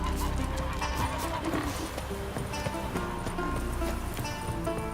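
Roach the horse clip-clopping in Witcher 3, a steady run of hoofbeats under in-game music and ambient noise.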